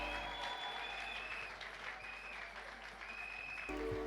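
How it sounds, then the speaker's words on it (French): A church congregation at a Sunday service applauds in a continuous, even wash of clapping that fills the room, ending with a brief shift in tone. "Lèvons-nous, acclamons."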